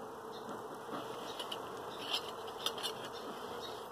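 Honeybees buzz steadily at a hive opened for winter feeding with homemade fondant patties, a dense close hum lasting throughout with a few louder wingbeat swells passing near.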